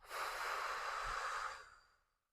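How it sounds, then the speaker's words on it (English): One long, close breath during a guided breathing session, a soft airy exhale swelling then fading away to silence, alone with no voices. "Inhale. Exhale. Inhale. Exhale."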